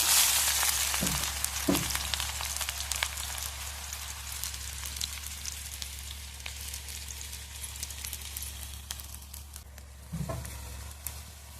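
Onion frying in a pan for a mustard greens dish gives a steady close sizzle with rain-like crackle. A few low scrapes from stirring come near the start and again near the end, and no one speaks.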